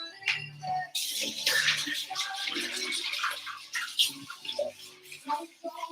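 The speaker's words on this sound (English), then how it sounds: "So I'm gonna wash this again." Kitchen equipment from donut and glaze making is rinsed under a running tap, with splashing water and clattering handling, close by and uneven in loudness.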